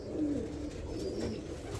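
Soft cooing from a pigeon, a couple of low murmured coos sitting faintly over a quiet background hum, no voices present.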